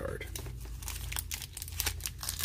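A Pokémon Cosmic Eclipse booster pack being torn open, loud continuous foil crinkling and ripping up close, with voices talking over it.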